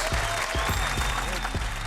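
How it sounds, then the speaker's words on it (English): Brief audience applause, moderately loud and steady, as a former Toronto Raptors basketball player is introduced at a talk event. "Give him a round of applause."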